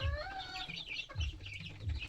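A hen clucks in soft, repeated low bursts, with higher chirps from chicks mixed in nearby.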